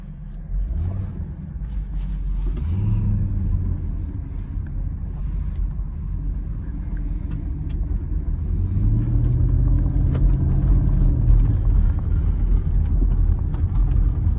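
A 2006 Mercedes SL500 with a coilover conversion pulls away across a parking lot, its low engine rumble rising in pitch a few times as it accelerates, steady and fairly close.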